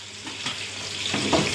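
Chili and garam masala sizzle in a frying pan while being stirred, a close, continuous crackling hiss with brief scraping bursts and no voices.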